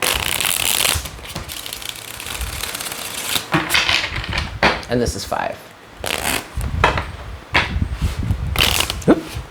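A deck of tarot cards shuffled in quick riffling bursts, crisp and close, between short stretches of someone talking.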